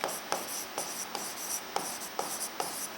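Writing on a board during a biology class lecture, with repeated scratchy pen or marker strokes in quick irregular bursts, close and fairly quiet, and no speech over it.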